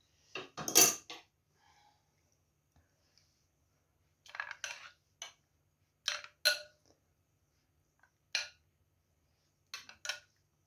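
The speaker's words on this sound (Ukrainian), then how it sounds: "Знову гарненько зіб'ю її." Egg filling being whisked for a minced-meat pasta casserole: a few short bursts of clinking utensil against a bowl, separated by quiet gaps, close and fairly soft.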